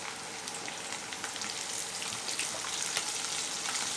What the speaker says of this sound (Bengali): আলুটাকে ভালো করে ভেজে নেব আলুটা